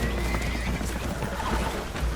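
Spooked horses whinny in distress aboard a leaking boat in Red Dead Redemption 2, a rising neigh standing out over constant rushing water and hoof clatter.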